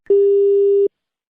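A single steady electronic phone tone sounds for under a second after a call is cut off, loud and clean against silence.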